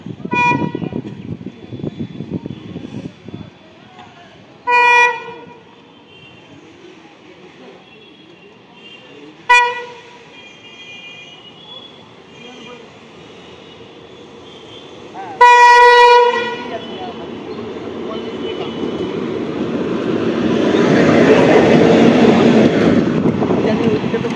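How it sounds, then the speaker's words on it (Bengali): A through train passes platform 1 at Kanchrapara station, sounding three distinct horn blasts before its rumble swells into a loud, sustained roar of passing wagons. "1 নম্বর প্ল্যাটফর্ম দিয়ে থ্রু ট্রেন যাবে।"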